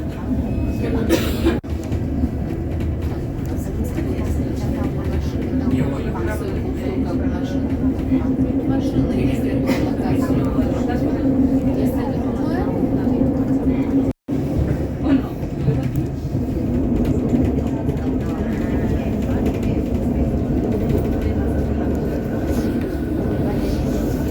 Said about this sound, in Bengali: এটা হচ্ছে গ্রোটসাল্প থেকে মুরেনে আসার ট্রেন, ছোট্ট একটা ট্রেন।